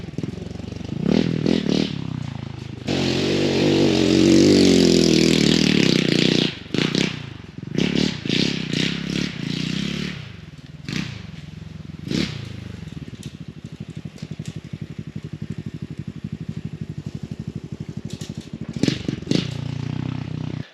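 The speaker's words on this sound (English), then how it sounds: "Bike goes up no problem in a second." An X Pro Storm 150 DLX pit bike, an ultra-light dual sport, climbing a steep dirt embankment: the engine revs hard and strains loudly, then drops to a choppy idle with clattering and scraping over uneven ground.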